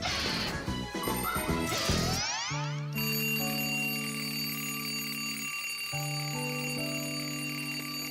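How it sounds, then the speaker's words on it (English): A jangling crash and metallic clatter gives way to a steady, repeating electronic alarm tone that beeps on and off, loud and close. "Tom Thomas, why is your alarm clock ringing in the middle of the night, huh?"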